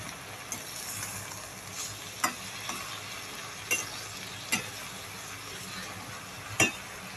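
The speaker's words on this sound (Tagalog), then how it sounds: "Sabay haluin na natin." Crispy fish and cabbage frying in a pan, stirred with a utensil: a steady sizzle with scattered sharp scrapes and clinks against the pan, close and moderately loud, no voices.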